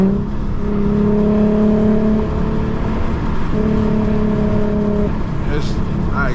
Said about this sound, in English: exhaust sounds nice